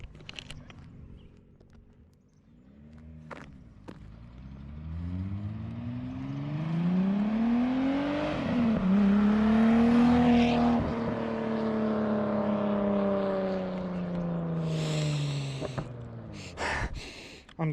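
A Datsun 280Z engine runs close by, revving up through a long climbing tone, holding a high steady drone, then easing back down before a few sharp clicks.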